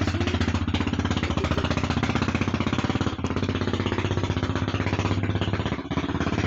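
A motorcycle engine running close by in the early morning, a loud, steady rapid chugging pulse that holds throughout without fading.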